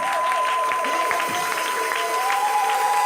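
Church congregation applauding and cheering together in praise of Jesus, a dense, steady wash of clapping and voices over a continuous sustained tone, with some speech mixed in.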